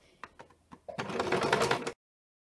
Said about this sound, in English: I'm sewing right on top of the book page.